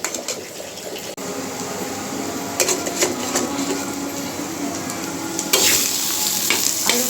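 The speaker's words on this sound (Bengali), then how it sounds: "মশলাটা আমি একটু কষিয়ে নেব।" Powdered spices and salt sizzle steadily as they are sautéed in a pan, with a spoon scraping and stirring through them in repeated strokes up close.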